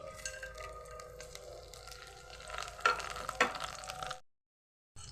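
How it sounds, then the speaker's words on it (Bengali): Whole cumin, cardamom, cinnamon, two dried red chillies and a bay leaf sizzle in oil left over from frying potatoes, a steady close crackle with a few stirring scrapes before it cuts off abruptly. "সেই তেলটার মধ্যে আস্ত জিরে, এলাচ, দারচিনি, দুটো শুকনো লঙ্কা আর একটা তেজপাতা দিয়ে দিচ্ছি"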